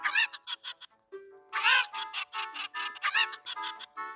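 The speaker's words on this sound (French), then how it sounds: "Ok, les poules." Chickens cluck in short, bright bursts, clustered into quick rhythmic runs with brief silences between, close and clear.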